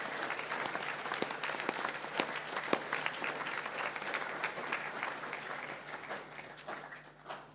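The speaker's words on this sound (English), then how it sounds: "could we give them, please, a special round of applause for their hard work?" Applause at a school junior prize giving, steady dense clapping from a hall audience that carries on for several seconds, with a low hum beneath it.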